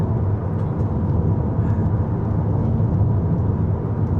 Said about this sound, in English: you only hear the actual noise of the engine or the exhaust